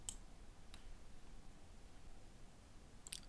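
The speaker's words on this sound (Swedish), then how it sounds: "Och klickar fortsätt." Computer mouse clicks while settings are saved in a course platform: a few sharp, faint clicks, one at the start, one softer near the middle and another near the end, over quiet room hum with no speech.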